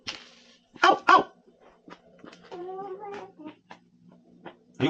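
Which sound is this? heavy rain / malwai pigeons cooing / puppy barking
puppy barking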